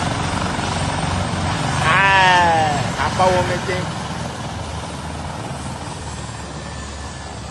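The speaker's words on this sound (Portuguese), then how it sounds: "O helicóptero tá ali, rasga que vai descer aqui." A helicopter near a crowded outdoor rally in Imperatriz, Brazil, droning as it comes in to land, a steady rotor roar under loud crowd noise and someone talking close by.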